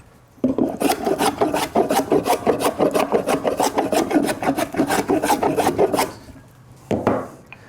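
Hand plane taking repeated rhythmic strokes across a rough sawn wooden board to flatten it, each pass a rasping shave in a steady series of about twenty close, loud strokes, then a pause and one last stroke.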